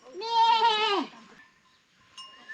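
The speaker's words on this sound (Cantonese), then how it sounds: "前面啊啲羊聽到啲鈴鈴聲啊" A goat on a grassy karst mountainside gives one loud, wavering bleat close by, then the sound drops to quiet. A faint bell-like ring and a brief tonal sound follow near the end.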